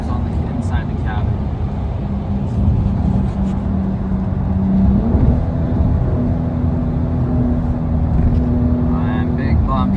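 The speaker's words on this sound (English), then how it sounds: "the engine screams on the inside the cabin." Inside the cabin of a BMW M235i, the engine screams under hard acceleration, a rising, steady tone that carries on over road rumble. A person talks over it at times.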